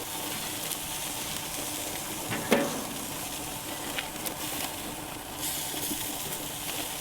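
Marinated steaks sizzling on a grill, a soft, continuous hiss and crackle heard fairly faint and close, with a few small clanks and pops as pieces are set down.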